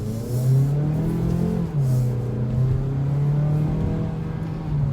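A 2021 Mazda CX-3 with a naturally aspirated 2-litre four-cylinder engine accelerating, the engine note climbing steadily, dropping briefly at a gear change, then climbing again, close and loud inside the cabin with no talk.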